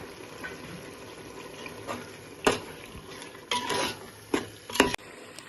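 Chicken with spices and yogurt fries in oil in a pan, with a faint background sizzle broken by several sharp spoon scrapes and stirs, close and quiet.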